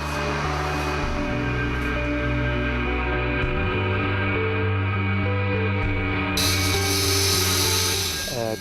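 A drill boring 25 mm injection holes into the ground for lifting a chalet, a loud steady whine that holds throughout and shifts in pitch as it works.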